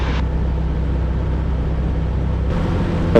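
The engine of a Zenith Super Duty Cruzer prototype airplane runs steadily during a short run-up, a constant low droning hum heard close inside the cabin with a brief change in tone near the end.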